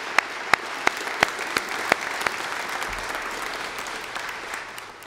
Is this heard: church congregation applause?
yes